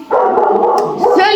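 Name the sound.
dogs barking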